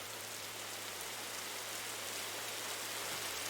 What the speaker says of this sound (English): there's rain coming